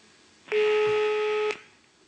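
A single telephone tone sounds steady and clear for about a second while calling a Norwegian newspaper's tip line, with quiet background before and after.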